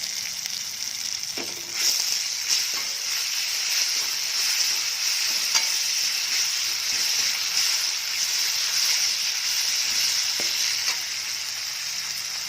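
Cumin, ginger-garlic paste and garam masala sizzling in hot oil in a pan, a loud steady hiss lasting throughout with a few scattered clinks of stirring, close by and without speech.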